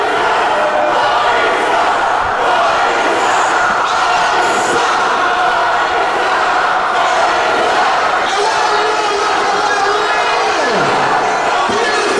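A wrestling crowd in Kingston, New York, jeers loudly at a wrestler named Buddy, a full, sustained roar of shouting voices that stays intense and unbroken from start to finish.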